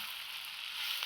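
Stuffed chillies with stems sizzling in oil as they are stirred in a pan, a steady soft hiss of frying with a faint scrape near the end, heard up close and alone.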